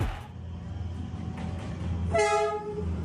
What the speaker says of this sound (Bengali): কল্পনা করুন আপনি ভিয়েতনামের এই ক্যাফেটেরিয়াতে বসে খাবার খাচ্ছেন, আর হঠাৎ এভাবে ট্রেন চলে আসলো